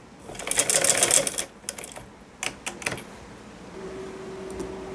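A sewing machine stitches a pocket onto a salwar. A rapid mechanical whir runs for about a second, followed by a few short clicking bursts and a low hum.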